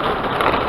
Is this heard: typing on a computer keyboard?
no